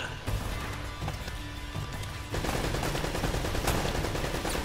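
Gunfire crackles in the video game Uncharted: Drake's Fortune, with rapid, dense shots and impacts over a busy combat backdrop, growing louder and more continuous partway through.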